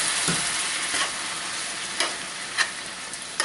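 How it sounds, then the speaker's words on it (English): Cream and spinach being stirred together in a hot pan, with a steady soft sizzle under a few scattered spoon scrapes and light clinks, fairly close. "And we're going to mix it all up together here."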